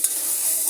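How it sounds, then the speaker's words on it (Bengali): Half-cooked vegetable bhaji frying and being stirred in a pan, a brief burst of steady bright sizzling hiss, close and fairly loud, no voices. "এখন আমরা আবার ঢাকনাটা গুছিয়ে একটু নাড়াচাড়া করে দিব।"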